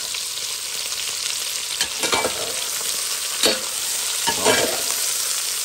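Onions fry in a pan for a shrimp-and-egg dish, crackling with a loud, continuous sizzle and occasional stirring scrapes, while a voice briefly speaks over it.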